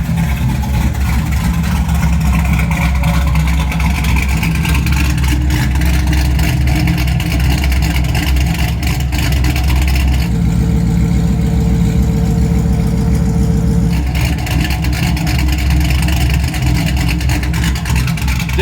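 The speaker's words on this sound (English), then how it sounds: "That Truck Norris cam sounds amazing in these things." A Camaro's LS V8 fitted with a Truck Norris cam and loud mufflers idles with a lopey, choppy rumble, then revs up briefly before settling back, loud and close throughout.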